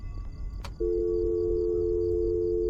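A steady electronic telephone tone on a phone being tested that isn't working, starting abruptly after a brief click and holding unbroken, fairly loud, over a faint background hum.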